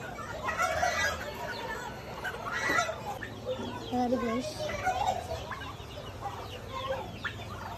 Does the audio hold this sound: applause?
no